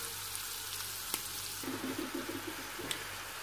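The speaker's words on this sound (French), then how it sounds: "je vais bien mélanger et je vais laisser revenir 2-3 minutes à feu moyen" Chicken stuffing of vermicelli, olives, parsley and coriander frying in a pan over medium heat, a faint, even sizzle with a few soft stirring scrapes and light clicks.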